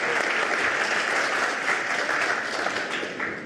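Dense, steady applause from a crowd, loud and continuous, tapering slightly at the end.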